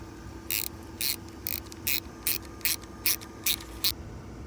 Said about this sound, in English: Torque both bolts to 14-foot lbs, then to a final torque of 21 foot-pounds